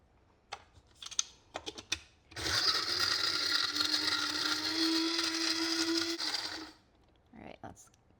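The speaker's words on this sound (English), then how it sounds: "this will take quite a few steps because this is a small coffee grinder" A small coffee grinder whirs steadily for about four seconds, grinding dried tomatoes into powder, with a few clicks and taps before it starts and after it stops.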